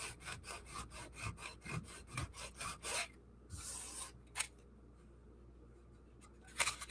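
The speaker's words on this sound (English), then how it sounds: "I'm just doing a light sand back and forth" Hand sanding of a model railroad layout surface, with about a dozen quick rhythmic back-and-forth strokes, followed by a pause, a few scattered rubbing scrapes and light knocks, close and fairly quiet.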